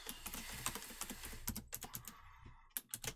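Quiet clicking of keys on a computer keyboard while logging into an online account, a run of quick taps with short pauses, close and soft with no voice over it.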